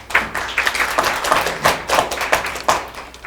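Audience claps to welcome a professor onto the stage at an academic institute event, a steady, fairly close round of individual hand claps sustained for several seconds with no talking over it.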